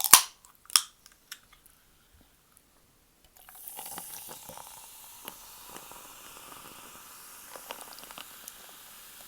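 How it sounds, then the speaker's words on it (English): Coke poured into a glass: a couple of sharp clinks, a pause, then a soft, steady fizzing hiss of carbonation that carries on quietly. "I'm going to pour my Coke"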